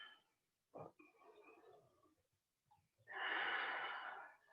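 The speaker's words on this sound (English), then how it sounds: "Deep breaths." Several deep breaths in a Pilates class: a short sharp inhale, a soft exhale trailing off, then a long, loud, breathy exhale close to the microphone.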